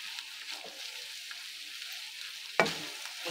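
Pasta being stirred in a pan with fresh basil leaves, a soft continuous scraping sizzle, close and steady, with one sharper clack of the utensil near the end.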